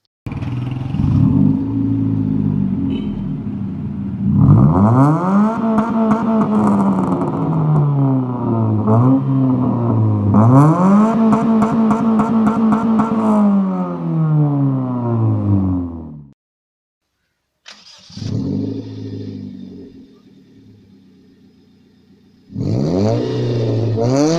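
A car with an HKS Jasma large aftermarket exhaust revs up and down in long, repeated sweeps, cuts out briefly, then fires and revs again, with a deep, rumbling exhaust note throughout.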